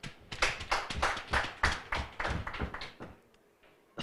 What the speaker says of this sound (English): which I think we need to really give a hand clap